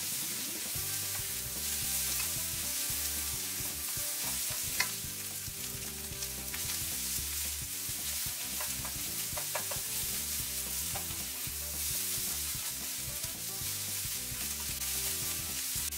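Fried rice stir-fried in a wok on a low-powered home stove after a splash of sake and light soy sauce, with steady sizzling and quick scraping tosses running continuously throughout.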